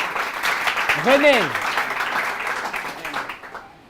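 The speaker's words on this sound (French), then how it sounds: "On applaudit pour lui, s'il vous plaît." Audience applause at a school quiz competition, a dense patter of clapping from a crowd filling most of the stretch, with a voice speaking briefly over it before the clapping thins out.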